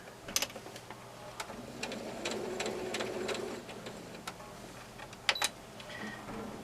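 A sewing machine stitches a pocket in short runs, a soft mechanical whirr with ticking needle strokes between sharper clicks of the machine being adjusted, close and fairly quiet.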